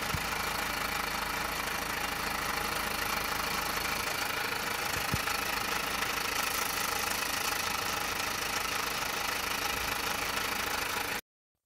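Mazda 2.2 Skyactiv-D diesel engine running with a steady mechanical clatter and low knocking, heard close up and continuous, with dense broadband engine noise throughout and no voices.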